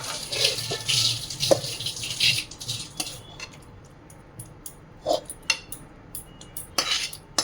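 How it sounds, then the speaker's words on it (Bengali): Clinks and scrapes of utensils against a pot as the remaining spices and vegetables go into a jackfruit biryani, scattered sharp knocks over a soft hiss, close and fairly quiet. "এখন এই যে এর মধ্যে বাকি মশলাটা দিয়ে দিচ্ছি, বাকি মশলা বলছি বাকি সবজিটা"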